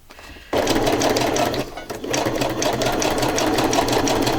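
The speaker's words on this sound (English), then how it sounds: "zigzagging with thread this time" A sewing machine zigzag-stitches with thread, its needle chattering in a fast steady rhythm up close, pausing briefly before running on.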